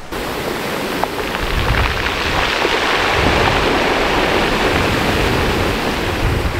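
Ocean waves washing over rocks at the easternmost point, a loud, continuous rushing surf with hissing water and faint rattling of stones, constant and close with no voices.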